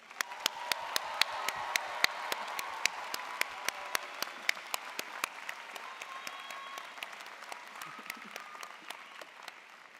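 Sustained audience applause for graduates at a university spring commencement ceremony of an architecture, design and arts college, a dense steady wash of many hands with sharper individual claps standing out, fairly loud and without talk.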